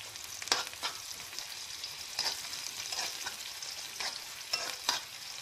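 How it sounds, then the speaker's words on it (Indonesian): Sambal tempoyak with onions frying in a pan, a steady close sizzle broken by repeated bursts of stirring and scraping at an uneven rhythm, with no talk. "Ini goreng sambal tempoyak nih Tampinay."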